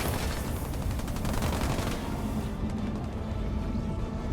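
Dense, continuous rapid gunfire and explosions from a Halo Wars 2 battle in which a sniper is firing on mines, a loud, unbroken barrage that continues throughout.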